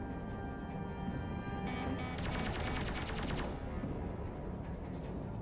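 Enemy missiles launching in space combat in the game Rodina: a quick rattling volley of sharp, gunfire-like bursts rising briefly over a steady, dense wash of combat music and engine drone.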